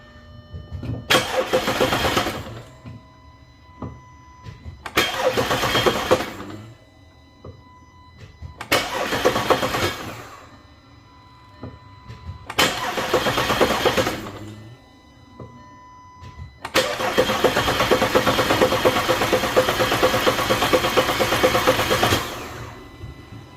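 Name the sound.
car engine cranking without starting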